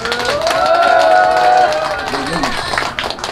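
Audience at a traditional pumba gakseori street-performer show clapping and cheering together, a loud crowd with a voice shouting and singing over the noise.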